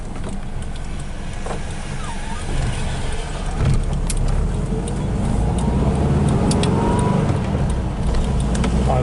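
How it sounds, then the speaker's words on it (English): Volkswagen Type 3 on a test drive around the Melbourne Formula 1 Grand Prix circuit, its engine a steady low drone heard from inside the moving car, rising gently toward the end amid road and cabin rumble. "Nagyon szépen megy a kocsi. Egyenletes a motor."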